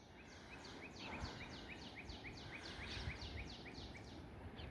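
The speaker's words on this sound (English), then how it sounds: "you can hear the cardinals in the background" Cardinals sing a rhythmic series of repeated clear whistled notes from a distance in a snowy spring garden, faint over a low steady background hush.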